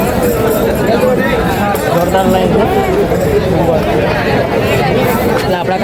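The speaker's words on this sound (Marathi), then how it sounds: "इथं खूपच जास्त गर्दी आहे." Large crowd heading to the temple in Ujjain, a dense close babble of many voices with shuffling footsteps, continuous and loud throughout.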